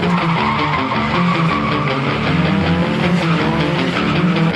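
A rear-wheel-drive full-size car drifting on a track, its engine roaring loud and steady throughout while the tires squeal and skid continuously.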